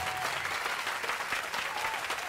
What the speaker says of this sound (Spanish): Ahí le están aplaudiendo